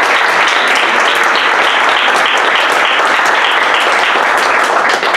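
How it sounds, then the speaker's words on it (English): Dense, sustained applause from an audience after a talk on class analysis and culturalism, loud and steady throughout with no voices standing out. "We'll give a big round of applause to Derek and Jennifer"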